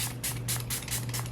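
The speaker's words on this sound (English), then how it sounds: "A great makeup melting spray." Milani Make It Last makeup setting spray is misted in several quick, hissing spritzes in a steady rhythm, close to the microphone with no talking.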